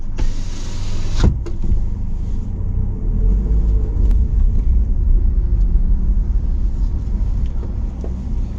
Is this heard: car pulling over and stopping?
yes